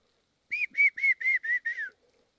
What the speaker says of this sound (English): Did you hear that? Those whistles?